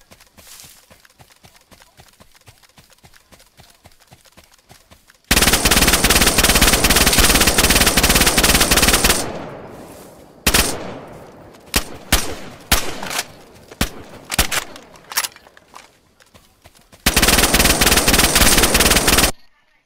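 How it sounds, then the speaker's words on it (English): Gunfire in the survival game Rust: long, loud bursts of rapid automatic fire, separated by stretches of single and clustered shots of differing loudness and faint rhythmic footsteps. "that's them shooting?"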